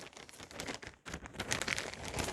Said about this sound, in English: Pardon the plastic bag sound.